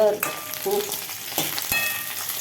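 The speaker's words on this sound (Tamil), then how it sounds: "வெண்டைக்காய் நல்லா வதங்கிடுச்சு பார்த்தீங்களா?" Okra (ladies' finger) sautés in a pan with a loud, close sizzle. Several sharp scrapes and clinks from a stirring spoon are heard, and no one talks.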